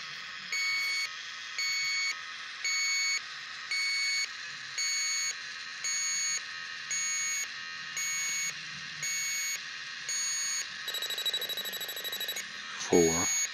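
A refrigerant leak detector sniffer is worked along a leaking Rheem heat pump, giving a loud, evenly spaced series of electronic beeps about once per second, then a quicker rising tone near the end.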